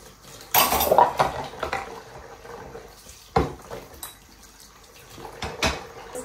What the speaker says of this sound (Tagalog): Hugasan ko lang itong pinainan ko bago ako pupunta sa town.